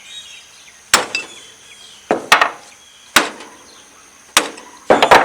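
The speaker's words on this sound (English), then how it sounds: "Whack it with a hammer to try and break it loose." A hammer whacks an adjustable wrench on a Ford 660 tractor's front wheel hub to break a cap loose, giving five or six sharp metallic strikes spaced about a second apart, some landing as quick double hits, close and clear with no talking.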